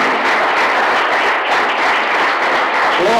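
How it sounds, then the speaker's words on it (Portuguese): A church congregation applauds during a worship service, producing loud, continuous massed clapping that holds at a steady intensity throughout with no distinct individual claps standing out. "Vamos aplaudir nosso Deus."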